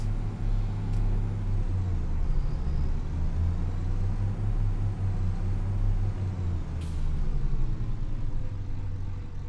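A tractor with GPS fitted drives in Farming Simulator 25, its engine a steady low diesel drone and rumble that runs throughout, with a couple of brief faint hisses.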